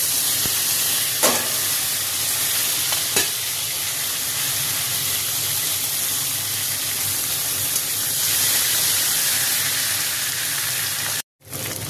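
Mixed vegetables, added to fried potato and cauliflower, sizzle steadily in a hot pan with hissing steam and a few sharp clicks of stirring, ending in a brief gap.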